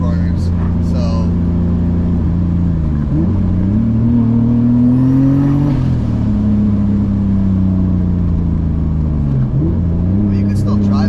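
A 560 whp turbocharged BMW E34 driven through corners in fourth gear, its engine droning loud and steady with gentle rises and dips in pitch, heard from inside the car.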